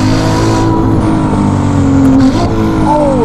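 A Novitec-tuned Ferrari 296 GTB exhaust rasps loudly from close by under hard acceleration, its engine note climbing steadily and then dropping briefly as the car shifts.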